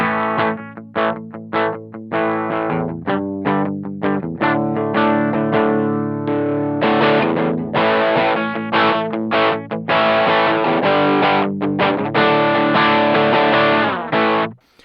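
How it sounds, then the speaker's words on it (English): An electric guitar strums a series of chords through a NuX Steel Singer Dumble-style overdrive pedal at low gain, gritty, sustained and fairly loud, with short gaps between changes and a final ringing chord. "So let's just play a couple chords."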